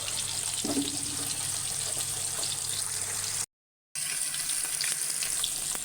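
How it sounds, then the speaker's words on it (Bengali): Rohu fish pieces fry in hot oil, giving a continuous close hiss and crackling sizzle, broken by a brief silent gap before the frying noise resumes. "এখন দেখুন ফেলে দিই মাছগুলা সব মাছগুলা ভালোভাবে ফেরাই করবো একটু লাল করে ভাজবো"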